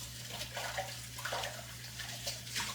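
Tap water runs steadily into a basin or container in a rural kitchen, a continuous splashing wash at moderate level with a low hum underneath and no talking.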